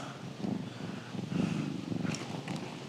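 A cat purrs steadily and close up in a quiet room, making a soft rhythmic rumble that swells and fades with each breath.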